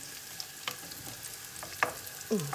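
Carrots and celery being stirred into fried onion in a pan: a few scattered scrapes and clicks of the utensil over a soft sizzle, with a louder scrape near the end.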